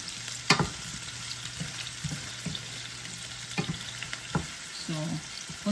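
Ingredients for sardine pasta, onion and tomato, sautéing in a pan, with a soft steady sizzle broken by a few sharp stirring clinks and scrapes, fairly quiet and close, with no talking.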